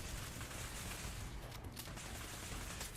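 Gunfire in the video game Fallout 4: a dense, continuous fusillade of shots that stays loud and steady throughout, with no clear gaps between rounds.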